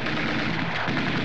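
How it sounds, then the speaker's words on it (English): Gunfire in a comedy film scene from Laurel and Hardy's Great Guns, a dense, loud and continuous barrage of shots that fills the whole short moment, with no voices. "Stop shooting!"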